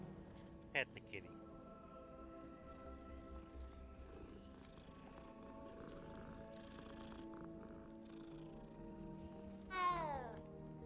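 A cat meows briefly in a Harry Potter wizarding-school video game, a short cry near the start with a longer mewing call near the end, heard over steady game music and ambience.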